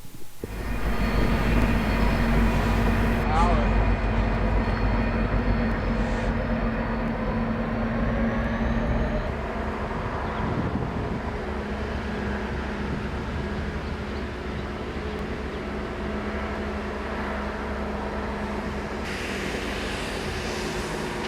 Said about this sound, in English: The 1712 is a former Clinchfield Railroad engine and one of two GP16s owned by the railroad